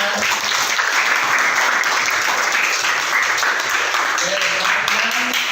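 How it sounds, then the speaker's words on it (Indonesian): Loud, sustained applause from a group gathered for a teacher coaching session, continuous dense clapping for about five seconds with faint voices mixed in. "beri aplaus yang meriah dong kelompok 6"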